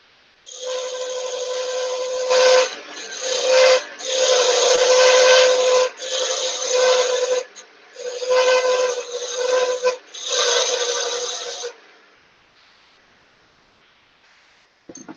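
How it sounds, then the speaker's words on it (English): A woodturning parting tool is being sharpened. About six sustained, harsh grinding bursts, each lasting one to two seconds, are separated by short pauses and are fairly loud and close before silence falls. "Parting tool needs sharpening."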